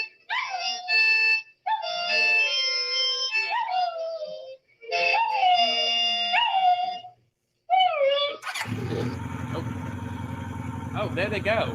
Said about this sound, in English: it's the neighbor's dog.